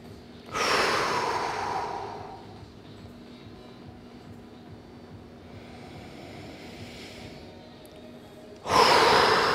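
Slow, deep breathing during a relaxed mobility and stretching session, with two long, loud exhales about eight seconds apart and soft, quiet breathing between them, no talk.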